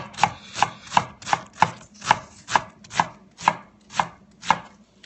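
A knife chopping through an onion on a cutting board, about a dozen crisp, evenly spaced cuts in a steady rhythm, close and clear with no talking.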